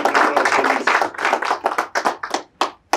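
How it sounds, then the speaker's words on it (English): Applause at a formal MOU signing ceremony, a burst of clapping that thins out into scattered individual claps near the end. "Another round of applause, ladies and gentlemen."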